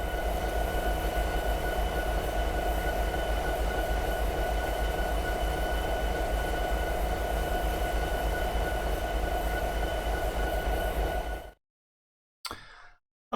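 An SD70 Mac diesel locomotive in Train Simulator 2020 gives off a steady, loud cab drone with rumble and rail noise for about eleven seconds, then cuts to silence before a brief burst returns at the end.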